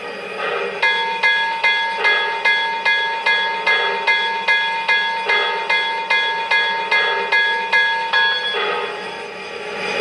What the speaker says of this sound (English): And now let's check out the bell.